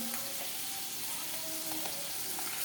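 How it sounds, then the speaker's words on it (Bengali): Potatoes fry in a pan, making a soft, steady sizzle that stays faint and even from start to finish, with no voices over it. "এই আলু ভাজা কী দেখাবো তোমাদের"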